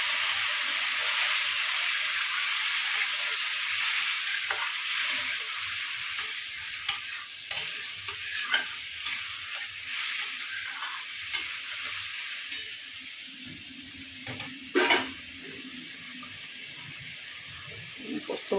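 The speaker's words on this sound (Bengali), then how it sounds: "এবার এর মধ্যে পরিমাণ মতো জল দিয়ে দেবো জিনিসটা সিদ্ধ হওয়ার জন্য।" Water is poured into a pan where stuffed pointed gourd cooks, a steady hissing sizzle and splash with occasional clinks of a spoon, fairly quiet.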